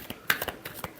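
A deck of tarot cards being shuffled up close in a quick burst of riffling flicks and soft slaps, with no voice heard.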